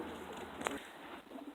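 Homing pigeons coo softly at the loft trap after a 22-mile toss, a low, muffled cooing heard faintly through steady background noise, with one brief sharper click partway through.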